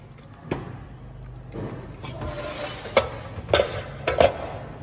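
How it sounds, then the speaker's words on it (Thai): Soft scraping and swishing of a utensil stirring Thai dessert batter in a bowl until smooth, with a few sharp clinks against the side, close and fairly quiet. "เราจะคนจนเขาละลายเป็นเนื้อเดียวกัน"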